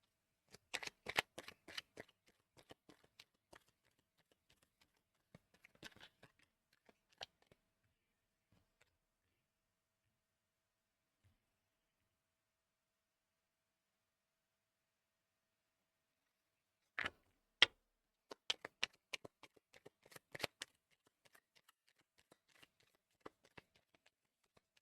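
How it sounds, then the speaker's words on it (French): Oracle cards are handled and shuffled close by. Soft, crisp riffling and flicking come in two separate spells with a long quiet gap between them. "je vais mettre toutes les cartes."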